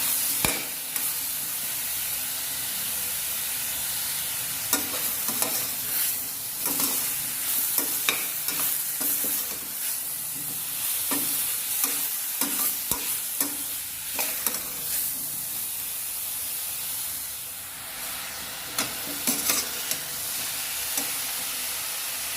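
Mushrooms sautéing in a pan with ginger-garlic for a mushroom biryani, giving a steady close sizzle and frying hiss broken by repeated scrapes and clinks of stirring, with no talk.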